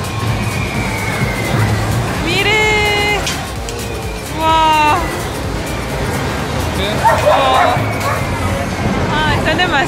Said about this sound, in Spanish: está demasiado happy el perro